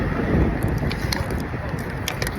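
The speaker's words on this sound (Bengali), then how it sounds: "অনেক শীত বাতাস" Cold winter wind in Jackson Heights, New York, blowing hard against the microphone, a constant low rushing rumble with faint higher chirps in the background.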